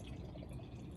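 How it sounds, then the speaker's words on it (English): Blue-tinted water with glitter poured into a calming jar, a steady close gurgling stream running without a break through a brief moment, alone. "then we pour it into our Calming the Storm jar"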